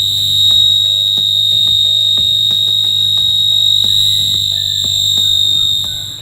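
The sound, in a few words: high-frequency tone from function generator through amplifier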